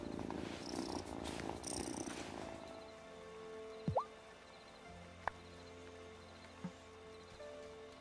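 A cat purrs softly in the video game Wylde Flowers, a low steady rumble under a sparse musical backdrop with a few brief plinking and sweeping game sounds.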